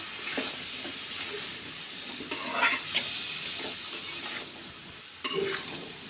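Cumin powder and spices being stirred in a frying pan for aloo dum, with soft scraping strokes and a light sizzle; a few brighter scrapes stand out over the steady frying hiss.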